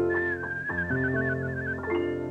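A woman whistles a short melodic tune, clear and close, with a wavering trill in the middle.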